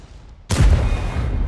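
A tank cannon fires in a tank video game, its shell bouncing off armor: a single sharp, loud boom with a ringing tail, standing alone after a quiet lead-in.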